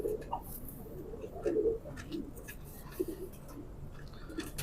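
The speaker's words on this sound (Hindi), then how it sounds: "कमाल का कबूतर है ये।" A pigeon coos softly in low, rounded murmurs, repeating several times close by with a quiet background.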